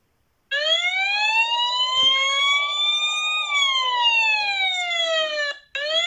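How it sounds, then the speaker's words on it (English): A phone security app's unstoppable alarm wails loud and alone, a steady siren-like tone that slowly rises then falls, briefly cutting out near the end before resuming. "you can send an alarm which cannot be stopped"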